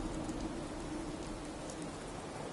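Steady rain falls in the Fallout 4 video game, a soft, even hiss of drops across the whole stretch, fairly faint and with no voices.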